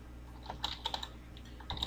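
Computer keyboard typing while entering a login ID, a quick run of soft key clicks in irregular bursts, close and fairly quiet with no talking.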